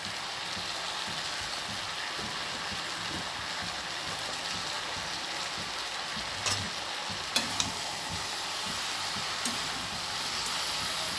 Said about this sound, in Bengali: আবার সবজির সঙ্গে সমস্ত কিছু ভালোভাবে নেড়ে চেড়ে কষিয়ে নিচ্ছি।